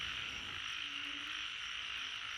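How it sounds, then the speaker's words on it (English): Frogs croak in a steady, dense chorus by a pond after rain near a beach house on Koh Phangan, the calls merging into a continuous buzzing drone that carries on unbroken with no voices. "After the rain, the frogs go crazy croaking"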